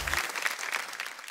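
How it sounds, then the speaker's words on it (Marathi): Studio audience of a Marathi women's game show clapping for a contestant, a brief burst of dense, steady applause with no talk over it. "एकदा जोरदार टाळ्या झाल्या पाहिजे ताईंसाठी."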